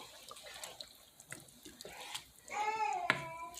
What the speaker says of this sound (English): So what I'm going to do is pour a cup of water in here.